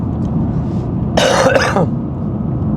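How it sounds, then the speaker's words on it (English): A single short, harsh cough, close and clear, breaks through low background rumble. "We got one cough in the video."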